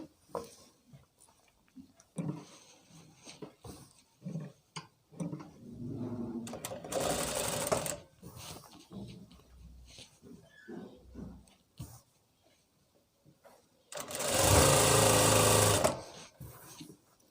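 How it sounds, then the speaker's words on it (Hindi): An electric sewing machine stitches the seat seam of palazzo pants in two loud, steady whirring bursts separated by quiet handling noises and occasional soft clicks. "ऐसे अब हम आसन की सिलाई कर लेंगे।"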